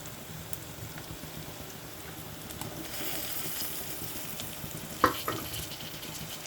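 Tomatoes dropped into a hot frying pan for egg macaroni, with a steady, soft sizzle of frying and occasional stirring scrapes, one sharper clatter near the end.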